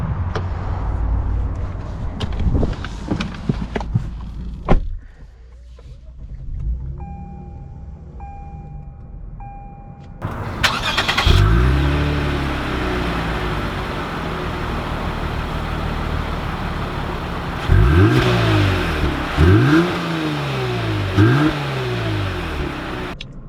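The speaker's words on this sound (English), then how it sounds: "let's take her out and see how she drives." A 2020 Lexus GS 350 F Sport with a 3.5 liter V6 and all-wheel drive cranks and fires up after a quiet pause, then revs several times in rising and falling sweeps, loud and close.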